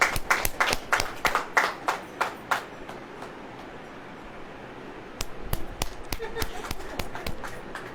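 A church congregation claps in a few rapid bursts of sharp, irregular hand claps, first fading out, then returning after a quiet pause, with faint voices in the room.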